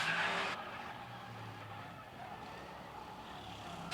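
Race car tires squeal at Sumter Speedway during a Super Trooper feature race, a loud, continuous rushing screech amid engine roar that eases slightly after a brief opening burst.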